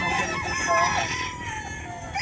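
Gamefowl stag, a young rooster, crowing once near the start with a drawn-out, rising call that fades out, with other birds clucking faintly around it.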